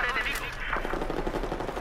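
Rapid machine gun fire from the Battlefield 4 multiplayer video game, a dense continuous burst of shots sounding close and loud throughout the short clip.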